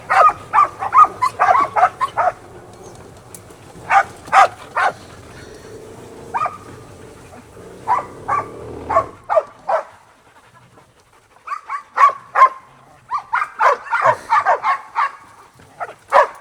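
Several Dutch Shepherd dogs bark in loud, uneven bursts close by, with short pauses and some panting and yips between the volleys. A low rumble runs beneath the first half.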